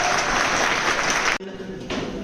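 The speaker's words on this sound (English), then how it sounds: "Please, huge round of applause" A crowd at a university prize-giving applauding a second-place winner, dense loud clapping that cuts off abruptly partway through, leaving a quieter room with a few scattered claps.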